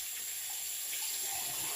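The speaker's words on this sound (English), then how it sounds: "I just wanted to rinse out my cup" Tap water running steadily as a cup is rinsed at a sink, a soft continuous splash heard alone.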